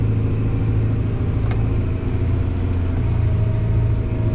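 A tractor engine under rising throttle gives a loud, steady, low rumbling drone that holds constant throughout, with no voices.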